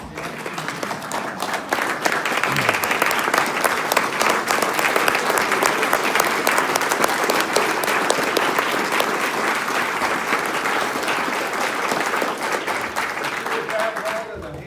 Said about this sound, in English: I'd like us to stand and give God a round of applause and ovation